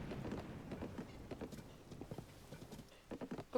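A horse ridden in Zelda: Tears of the Kingdom gives quick, light clip-clopping hooves. The hoofbeats run as a rapid patter in uneven bursts at moderate level with no voice over them.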